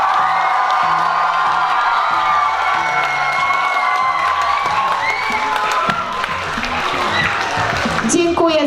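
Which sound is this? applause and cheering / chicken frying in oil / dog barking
applause and cheering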